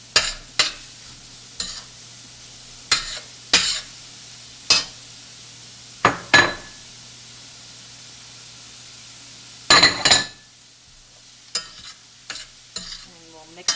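A spatula stirs grain-free vegetable fried rice with carrot and scallions in a pan, making sharp scraping strokes in irregular bursts with quiet gaps between them, close and clear with no voices.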